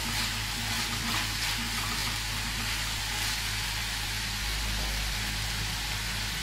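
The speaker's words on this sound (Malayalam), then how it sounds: "ഉപ്പ് ചേർത്തതിന് ശേഷം നന്നായിട്ട് മിക്സ് ചെയ്ത് കൊടുത്തിട്ട് നല്ലതുപോലെ വഴറ്റിയെടുക്കാം." Onion, ginger and garlic with curry leaves sauté in a pan for a Kerala-style chicken curry, giving a steady, soft sizzling hiss throughout, with no talking.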